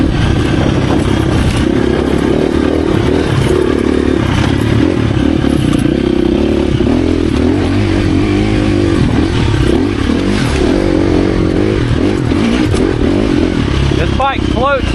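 A 2024 KTM 350 EXC-F dirt bike engine drones loud and continuous while being ridden, its pitch rising and falling with throttle over steady rattles and wind rush, with a voice speaking over it.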